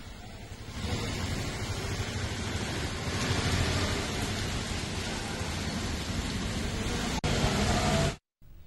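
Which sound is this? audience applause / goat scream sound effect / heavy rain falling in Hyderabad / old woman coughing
heavy rain falling in Hyderabad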